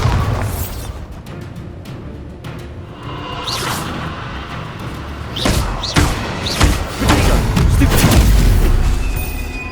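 Bombarda explosion spell in Hogwarts Legacy on PS5, several heavy booming blasts and thuds over a rumbling combat background, growing louder toward the end.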